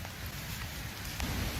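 Rain falls steadily on a garden bed of red clay during digging, an even patter and hiss with no voices over it.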